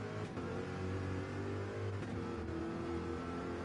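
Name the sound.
Corvette race car engine revving, Nürburgring race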